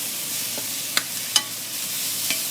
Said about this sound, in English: Now what we're going to do is we're going to add our shrimp